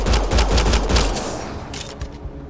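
A player's weapon in Mass Effect: Andromeda fires a fast, loud burst of rapid shots, then trails off into scattered fainter cracks.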